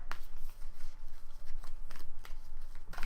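Playing cards are shuffled during a Mice and Mystics board game session, giving a steady run of papery riffling and flicking with sharp bursts at the start and end, close and fairly loud, with no talk.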